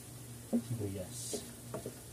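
Onion with ginger and garlic in hot oil, a faint crackling sizzle with light stirring taps, heard under a low steady hum.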